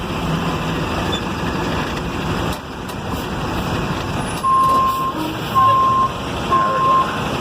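A truck reverses to back up under a trailer, its engine rumbling steadily while three evenly spaced reversing beeps sound near the end.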